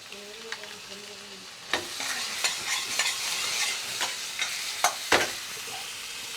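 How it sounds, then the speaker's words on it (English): Fresh yogurt going into a sizzling chicken curry in a restaurant-style pan: a quiet opening, then a burst of frying hiss with repeated clattering stirs and spoon knocks, fairly close and loud. "So we put some fresh yogurt."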